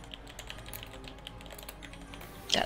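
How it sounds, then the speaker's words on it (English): Quick, light typing on a computer keyboard, steady soft clicks close to the mic, ending in a brighter, louder clatter. "That typing."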